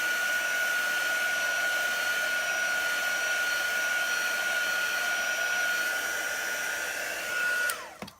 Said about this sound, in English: That only took like, what, 30 seconds with the heater? With the heat tool.